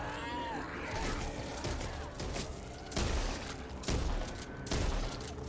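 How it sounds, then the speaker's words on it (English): Shotgun blasts in the zombie shooter Back 4 Blood, several heavy booming shots at irregular intervals amid dense, chaotic combat noise and clatter. "Now this shotgun is too strong."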